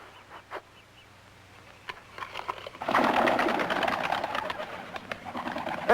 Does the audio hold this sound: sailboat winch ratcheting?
no